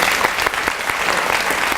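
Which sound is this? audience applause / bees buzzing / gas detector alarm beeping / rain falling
audience applause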